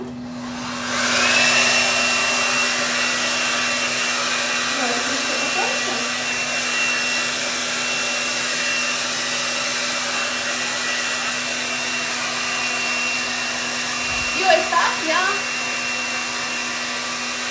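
A 5-in-1 hot air brush hair dryer blows with a steady, loud whooshing hum and a thin motor whine, running close and continuously while someone speaks briefly over it.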